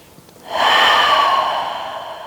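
A single long, deep breath taken during a yoga stretch, moving air steadily for about two seconds after a short quiet start, close and clear with no talking.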